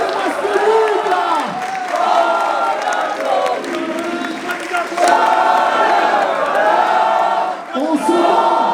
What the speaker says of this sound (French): applaudissements pour vous, vous le méritez, regardez-moi ce public là